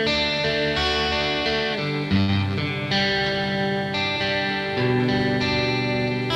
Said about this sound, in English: by adding a chorus into this, okay, I get beautiful clean sounds